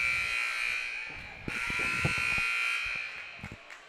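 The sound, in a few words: buzzer at a basketball game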